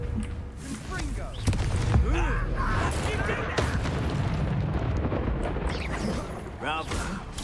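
Confringo blasting-spell explosions in Hogwarts Legacy boom and rumble through continuous loud combat noise, with a voice talking throughout.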